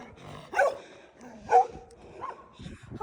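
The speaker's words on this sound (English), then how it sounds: "These dogs won't leave us alone as we're running back." Several dogs bark at runners outdoors, with two louder, nearer barks standing out among fainter yips and background activity.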